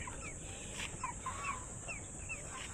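Baby chicks cheep in quick, high, faint repeated peeps over a steady background hiss, with no talking.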